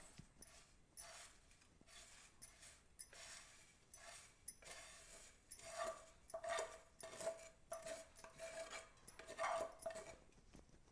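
Vermicelli stirred into boiling water in a metal pan, with repeated scraping and clinking of a spoon against the pan in irregular bursts, close and fairly faint, with no speech.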